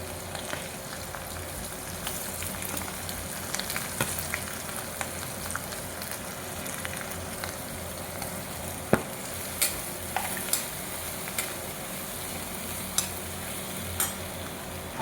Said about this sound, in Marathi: मी आत्ता लगेच भाजी घालते आणि मग बडीशेपची पावडर नंतर घालणार आहे